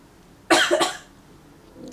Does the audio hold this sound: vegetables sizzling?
no